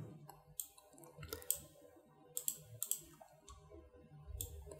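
Mouse clicks while working in DaVinci Resolve video editing software, a handful of sharp, close, isolated clicks spaced irregularly over a quiet background with no talking.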